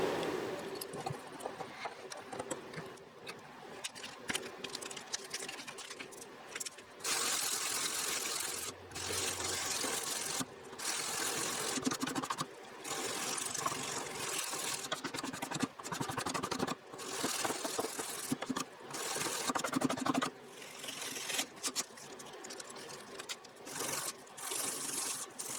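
A knife handle is hand sanded with 220 grit paper, a faint, steady scratchy rubbing with repeated strokes broken by short pauses.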